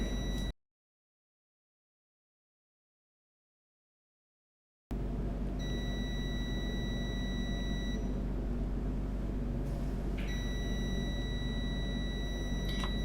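A multimeter on continuity mode beeps while its probes test the pins of a phone microphone connector. It gives a steady high electronic tone that starts, stops, then sounds again, close and clear over a faint hum, with a stretch of total silence near the start.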